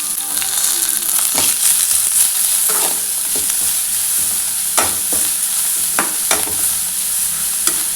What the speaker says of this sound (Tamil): தேங்காய் சேர்த்துட்டு லைட்டாக வதக்கினா போதும், ரொம்ப வதக்க தேவையில்லைங்க